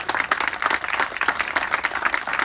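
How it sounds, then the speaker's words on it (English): Audience applause from a crowd at a community honoree ceremony, a steady wash of many hands clapping throughout, loud and close. "I do just want to give you another round of applause"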